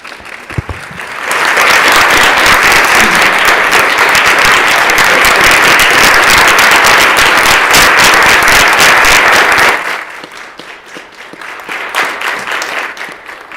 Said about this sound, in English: maybe we can applaud all those graduates that are graduating this week